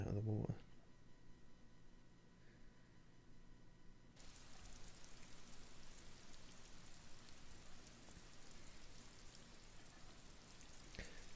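Steady rain ambience in the video game Disco Elysium, a dense hiss of falling drops that swells louder after a short quiet start, with a brief voice or sound at the very beginning.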